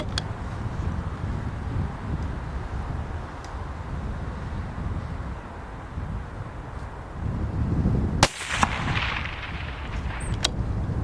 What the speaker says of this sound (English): I'm just going to take a few shots with it, see what it's like.